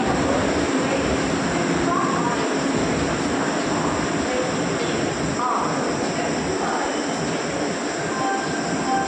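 A Vande Bharat high-speed train rumbles steadily along the track at Bilaspur railway station, a constant loud roar with faint squeals and rattles, and muffled voices murmuring underneath.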